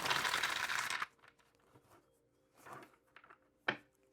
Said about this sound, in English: It's not shuffling the way I want.